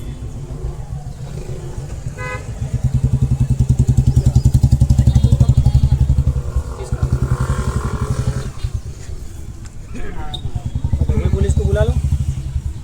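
Motorbike engine revving and pulling away at a street liquor raid in Dabhoi, with car traffic and horn toots nearby, under loud excited talk and shouting from bystanders.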